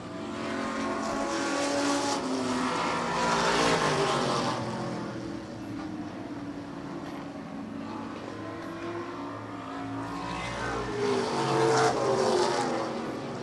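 Race cars roar around a dirt oval track during an outlaw feature race, engines droning steadily near and loud with swells as the pack passes, under the white flag.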